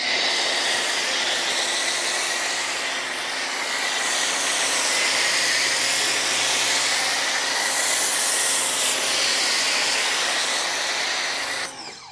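Ryobi pressure washer spraying Meguiar's Hyperwash foam, a steady loud hissing rush that runs unbroken for about twelve seconds before cutting off at the end.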